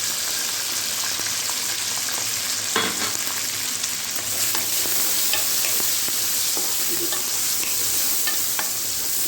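Browned onions fry with freshly added spices for mutton yakhni pulao, giving a loud, steady sizzle broken by the scrape and clatter of stirring, with no talking.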